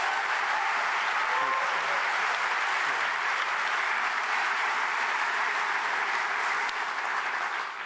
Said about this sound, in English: Let's welcome Sam to the microphone with a big round of applause